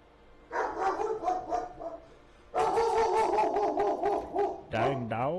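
A dog barks and whimpers in a Frostpunk 2 game soundscape, several bursts of harmonic yelping with a short pause before a longer wailing stretch and a final rising whine.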